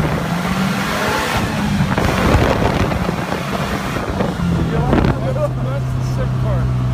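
A Polaris Slingshot accelerates hard from a standstill toward 35, its engine droning and shifting pitch beneath heavy wind buffeting on the mic, with a voice partly audible.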